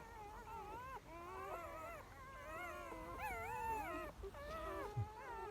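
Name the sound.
puppies being fed by their mother dog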